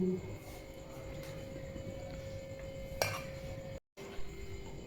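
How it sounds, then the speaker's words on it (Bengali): Mixed biryani with chicken, egg, carrot and potato is served onto plates, with dishes and spoons clinking in scattered light knocks over a busy background murmur and one sharper clack. "থালায় থালায় বাড়া হচ্ছে।"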